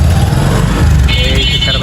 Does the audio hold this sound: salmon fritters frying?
no